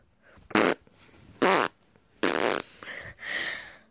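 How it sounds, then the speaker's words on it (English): Cartoonish fart sound effects in a puppet comedy: four loud, separate bursts, the first three short and abrupt, the last a longer, drawn-out rasp, with no talk. "The fart."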